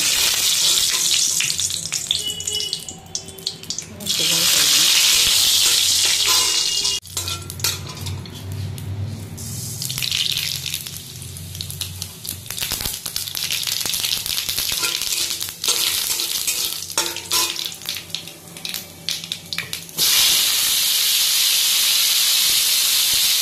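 Oil heats in a kadhai on the stove before dal soured with tart homegrown mango goes in: a steady, fairly loud hiss with scattered clinks of utensils and a few brief pauses, no voices.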